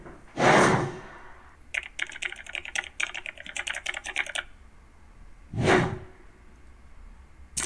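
A typing sound effect from the CapCut library plays as a burst of rapid, crisp keyboard clicks lasting a few seconds, framed by two loud whooshes before and after.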